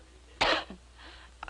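A single sharp cough rings out near and clear, followed by a faint throat sound, in an old comedy show scene set in a quiet room.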